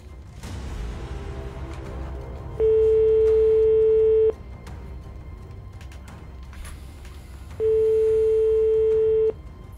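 A telephone ringback tone sounds during a live call on a televised Tahitian SMS-game draw: two long steady rings a few seconds apart, loud and clear over a low background murmur.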